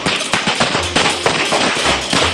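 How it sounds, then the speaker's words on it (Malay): A loud, rapid string of board firecracker explosions, dense crackling bangs that keep going without a break. "Mercun papan."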